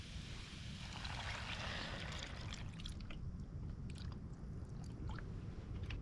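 Steady water pours and splashes into a cooking pot at a wild camp, a continuous rushing stream that stays even from start to finish, faint and close.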